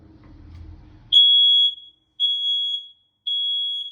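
Household smoke alarm under test gives three loud, piercing electronic beeps of roughly a second each, separated by short gaps, following a brief low rumble of handling at the start.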